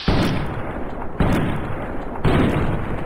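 Three heavy gunshots in Fallout: New Vegas, each a sharp loud boom at roughly one-second intervals with long rumbling decay filling the gaps.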